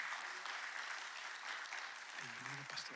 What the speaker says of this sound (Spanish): Recibámoslo con unas palmas, hermano